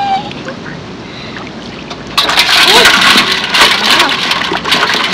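Rain falls steadily during hand fishing in the water, rising abruptly into a louder, dense patter partway through, with speech mixed in.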